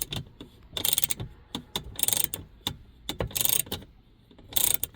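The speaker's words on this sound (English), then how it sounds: "you will need 13mm socket and a ratchet to remove those." A 13mm socket and ratchet loosen the headrest nuts on a Dodge Grand Caravan third-row seat, giving bursts of rapid, close ratchet clicking between pauses and small metallic handling sounds.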